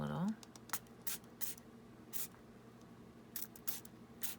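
Several short, soft hissing bursts spaced irregularly, each a quick spritz of coffee from a spray bottle onto paper, with faint handling noises and a brief tone at the start.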